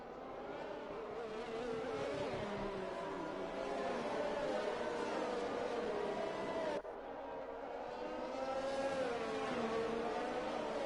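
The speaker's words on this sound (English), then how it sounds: "as they start their formation lap now to get them tyres and brakes warmed up" Race cars on a formation lap, their engines giving a continuous revving whine that rises and falls as they weave to warm tyres and brakes, distant and steady.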